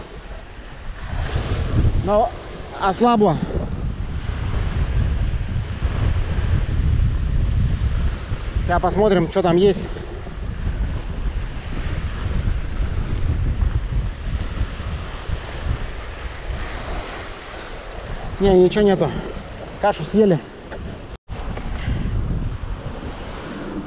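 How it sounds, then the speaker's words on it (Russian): Strong northerly wind roars across a lakeshore during a storm at a carp and crucian fishing spot, with continuous rumbling gusts and wash of waves; someone talks intermittently over the steady, buffeting noise. "На улице ветер, капец."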